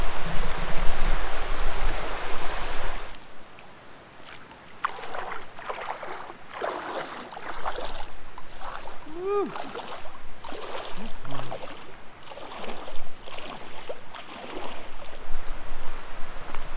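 Stream water crossing on the Buffalo River Trail in Arkansas, starting with loud rushing flow that abruptly drops to quieter splashing and sloshing of footsteps through water, close and irregular.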